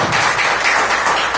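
Church congregation at a family worship service applauds joyfully, producing a dense, loud, continuous wash of clapping close by.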